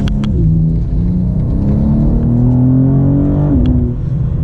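A 2025 BMW M2 engine pulls on a winding road with manual shifting, revs rising steadily in a loud, close drone, then dipping briefly at a gear change before climbing again.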